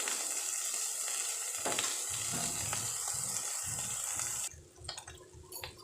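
Fish, a Bengali bhujia-style fish dish, sizzles steadily as it fries in a pan for most of the clip, with some stirring and clatter. The sizzle then drops off sharply, leaving quieter kitchen knocks.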